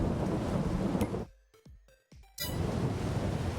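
Steady rain hissing down in the Farming Simulator 22 game on the Iowa Plains View map, broken by a short gap of quieter low rumbling before the dense downpour returns, loud and close, with no voices.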